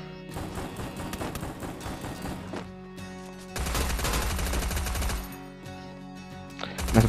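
Rapid bursts of automatic gunfire from a battle royale shooter game, dense repeated shots in several volleys, with a louder, heavier stretch partway through.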